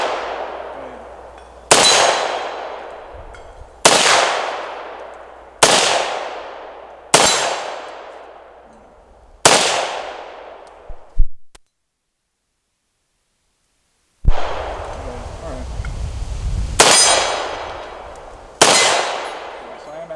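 Shots from a PSA AKE rifle ring off a steel target outdoors, about eight loud sharp cracks each followed by a decaying metallic clang, spaced a couple of seconds apart with a silent gap midway.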